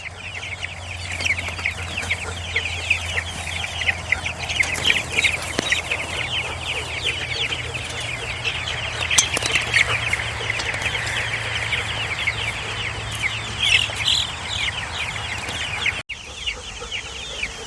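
Chickens in a chicken tractor on a farm cluck steadily in a close flock, a busy overlapping chorus of clucks and murmurs with a low hum underneath.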